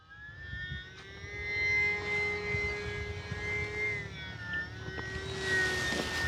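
A small E-flite UMX Pitts RC airplane flies at partial throttle, its high electric motor whine steady and tonal, shifting pitch slightly as it passes, with faint wind noise and no talking.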